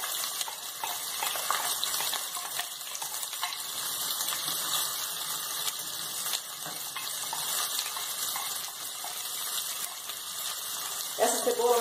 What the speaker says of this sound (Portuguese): Vai juntar água e vai fritar até ela ficar bem dourada, no ponto de quase queimada.